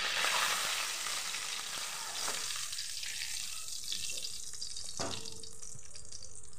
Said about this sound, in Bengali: একটু জিরে ফোড়ন দিয়ে দেবো, দুটো তেজপাতা দিয়ে দিলাম